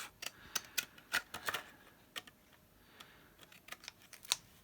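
Pinking shears snip through paper in a quick run of sharp, close clicks and crunches, with short pauses between bursts and a few louder cuts near the end.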